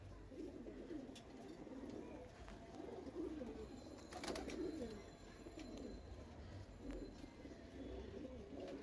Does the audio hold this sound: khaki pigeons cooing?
yes